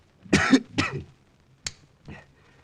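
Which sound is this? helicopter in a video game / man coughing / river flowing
man coughing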